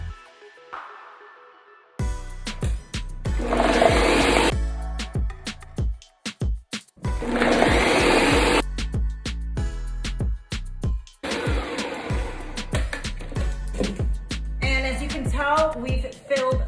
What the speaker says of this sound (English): we're gonna cover the blender and go ahead and give it a whirl and let it do its thing